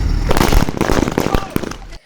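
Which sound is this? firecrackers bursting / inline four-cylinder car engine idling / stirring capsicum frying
firecrackers bursting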